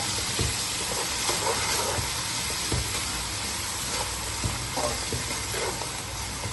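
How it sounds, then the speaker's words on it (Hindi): Ginger garlic paste and crushed green chili hit hot oil in a pot for chana pulao, giving a steady loud sizzling hiss with occasional soft stirring knocks. "इसमें मैं शामिल करूंगी अदरक लहसुन का पेस्ट और कुटी हुई सब्ज मिर्च।"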